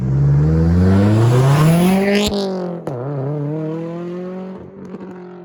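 A Subaru STI's high-revving engine climbs steeply in pitch through its exhaust, drops sharply with a crackle, then settles into a loud, rough, burbling idle close by.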